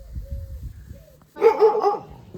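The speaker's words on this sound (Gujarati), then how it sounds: "જો હાર્દિક ભાઈ કૂતરો જો વહે છે આવકારો દે છે" A village dog barks at arriving visitors, a short burst of loud, close yelping barks after a stretch of quieter low rumbling background noise.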